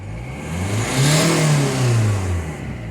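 Ford C-Max diesel engine revving up then easing back as the accelerator is released, a steady mid-pitched drone that rises and falls over about three seconds, heard close with no talking.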